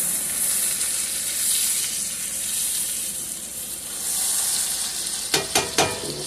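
A T-bone steak frying in black truffle butter in a hot pan, a loud continuous sizzle and spatter, followed near the end by a few sharp clanks of the pan or utensil.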